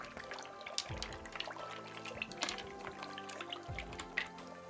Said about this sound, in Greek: Και ανακατεύουμε για να μην κολλήσουν.